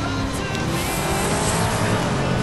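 Race car engine roaring with tire squeal during a FlatOut video game race, the car being the heaviest, most powerful model available; loud, continuous engine drone with skidding, no talking.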